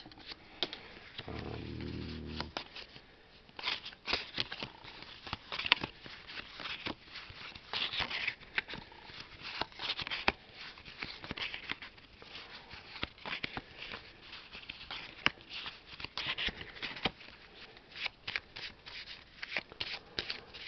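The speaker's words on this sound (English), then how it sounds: "Shuffle the cards" Cards are shuffled and riffled repeatedly up close, a continuous crisp flutter of snapping and rustling with no talking.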